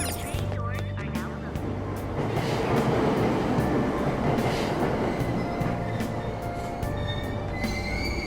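Commuter train in the video game Persona 5 Royal rolling along and pulling into a station, a continuous rumble of wheels and carriages with metallic squeals and tonal hums, fairly loud and sustained, no speech.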